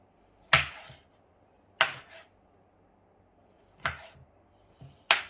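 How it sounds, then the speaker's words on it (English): Garlic cloves chopped with a knife on a cutting board: four sharp, separate chops spaced a second or two apart, close and fairly quiet against a still room. "Cut up all the garlic cloves."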